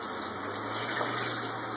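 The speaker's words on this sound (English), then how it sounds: "The sump pump kicks in." A steady pump motor hums without a break beneath a constant wash of flowing water, close by and moderately loud, with no voices.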